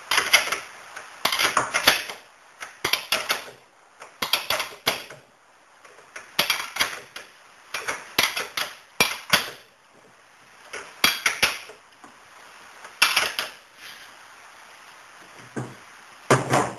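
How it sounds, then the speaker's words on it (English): A wrench tightens the main axle nut on a bicycle rear wheel during chain adjustment, giving repeated bursts of metallic clicking and clinking in quick clusters separated by short pauses, close by with no speech. "Now we move around and we tighten up the main nut."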